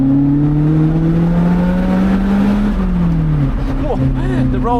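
A Lotus Elise sports car engine drones and pulls under acceleration on a mountain road, its pitch rising, dipping at a shift, then climbing again, loud and close from inside the car, with a voice talking over it.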